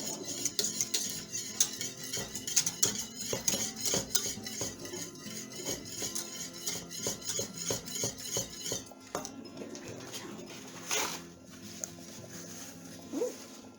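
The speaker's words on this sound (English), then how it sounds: "You want to keep stirring it." Spoon clinking and scraping against a pot while a thickening plant-based sauce is stirred for a Thanksgiving meal, with steady close-up clatter and brief metallic clinks throughout, no talking.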